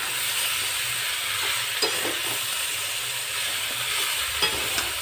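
Fried mango pieces being stirred with spice paste in a pan for pickle, a continuous hiss of sizzling oil with occasional soft scrapes and clinks of the spoon, close and steady, no speech.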